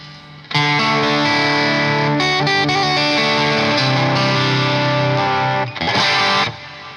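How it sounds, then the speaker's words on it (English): Chandler GAV 19 T guitar amp driven into power amp distortion, a loud sustained overdriven guitar chord ringing out, briefly choked and restruck near the end, alone with no talk. "Maybe let's try once this the trick with the power amp distortion."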